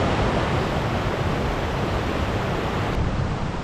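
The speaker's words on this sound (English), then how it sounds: "All that rain has what I imagine is probably a small creek just rolling." Small creek swollen after heavy rain in the Georgia mountains, rushing water making a loud, continuous broadband roar close to the listener, steady throughout with no voices.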